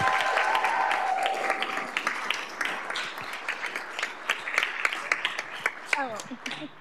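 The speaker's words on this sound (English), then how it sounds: "Give her a huge round of applause." Audience at a school board meeting applauding, a burst of clapping that thins into scattered individual claps, with a voice speaking at the start and end.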